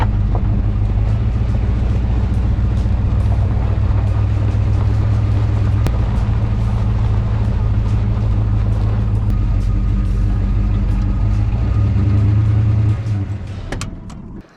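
A daily-driver car fitted with a huge cam, heard while driving: a loud, continuous low engine drone with a lumpy rumble that holds steady, then fades out at the end.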